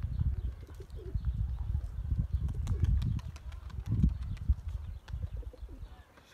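A young blue pigeon in flight claps its wings, giving a quick run of sharp, fairly faint clapping snaps over a low, rumbling outdoor background.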